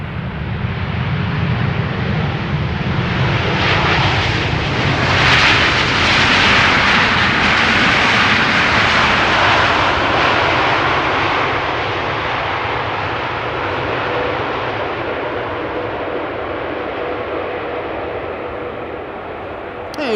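A nine-year-old Dutch-registered TUI Boeing 787-8 Dreamliner arrives at Amsterdam Schiphol from Punta Cana. Its broad jet-engine roar builds, peaks loudly mid-pass, then fades slowly into a long, steady rumble, with no other sounds over it.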